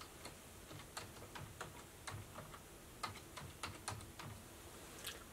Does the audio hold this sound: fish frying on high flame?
no